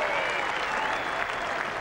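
Cricket crowd at an Ashes Test match in 1981 applauding, a steady, dense wash of clapping from a large stadium audience heard at a distance, continuous throughout.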